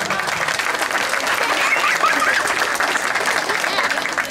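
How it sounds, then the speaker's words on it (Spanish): Sustained applause from a crowd at a rural village beauty pageant, Reinado Vereda Obando 2022, honouring a judge; steady, dense clapping fills the whole stretch at close range, with faint voices mixed in. "también un fuerte aplauso"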